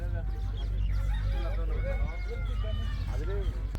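Farm poultry, ducks and emus calling together outdoors, with repeated honking and goose-like cries overlapping one another amid a busy background, and people's voices mixed in.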